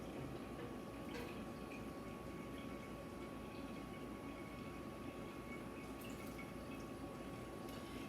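Fresh cranberry juice streams steadily into a container, a continuous faint liquid pour with a few soft drips, heard alone with no talking.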